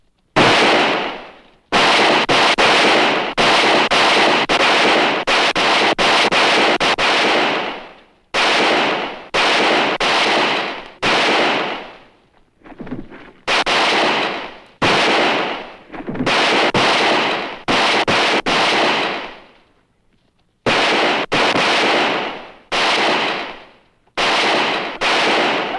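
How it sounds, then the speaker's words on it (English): Gunfire in a shootout from an old western TV show: rapid loud bursts of shots in repeated volleys, separated by brief silences, with no talking. "Let them work in close, and then start shooting slow and steady."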